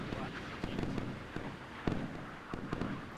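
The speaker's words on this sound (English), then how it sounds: "Sounds like fireworks popping off." Missiles streaking in while naval point-defense guns open fire in a warship video game, a scattered series of sharp pops and crackles like distant fireworks over a rumbling background.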